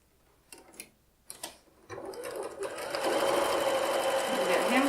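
A sewing machine stitches pieces of a quilt block back together, starting with a few short taps and bursts before settling into a steady, close, rising whir of continuous stitching.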